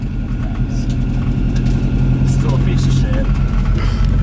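Loud, close engine drone of a turbocharged Volvo 240 under way at speed, a steady deep rumble with rising tonal whines, while people talk over it inside the car.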